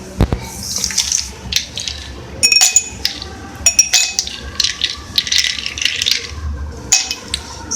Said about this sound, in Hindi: सबसे पहले हम अपने ग्लासेस में ऐड करेंगे बर्फ़ के क्यूब्स